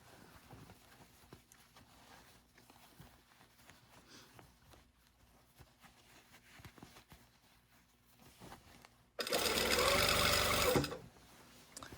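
Quiet handling noises and taps lead into a single loud burst of sewing machine stitching of about two seconds as lining is sewn at a 5/8 inch seam, followed by quiet again.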